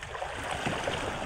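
Rough sea waves slosh and wash around a small fishing boat, a steady rushing of water and wind heard close for a moment without speech.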